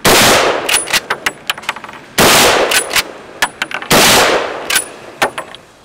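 Three loud gunshots fired at a target on a shooting range, each a sharp blast with a long ringing decay, spaced about two seconds apart, with faint metallic clinks and clatter after each.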